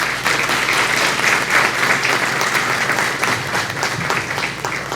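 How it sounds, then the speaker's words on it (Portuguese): Loud, dense applause fills a school education event as an audience welcomes professor Maraína, a steady wash of many hands clapping without pause for the full stretch. "Vamos receber a professora Maraína com um grande aplauso"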